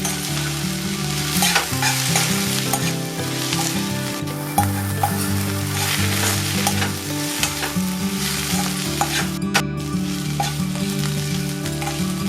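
Drumstick leaves sauté with salt in a hot pan, giving a steady, close sizzle and fry broken by stirring scrapes, with a low hum running underneath.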